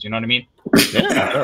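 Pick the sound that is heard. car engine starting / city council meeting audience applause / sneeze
sneeze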